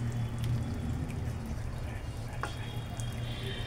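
Spicy rupchanda fish curry poured from a pot into a bowl, a soft wet trickle and splash that runs under faint background noise.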